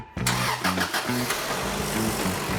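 An old Toyota car engine cranks and catches, then settles into a steady, slightly uneven idle.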